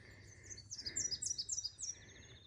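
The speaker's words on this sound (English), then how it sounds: "Birds." Several birds sing in a field of yellow flowers near a tree line, bright chirps and warbling phrases repeating through the clip over a soft, steady outdoor background.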